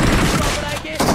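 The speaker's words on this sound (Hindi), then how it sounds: "भाई एक डीबीएच के शॉट में जो दो शॉट मारे थे ना भज भज करके, उसमें दो बंदे गए अलग अलग भाई।" Double-barrel DBS shotgun blasts in PUBG Mobile, dense booming reports filling the moment with a brief lull before another loud burst, close and punchy.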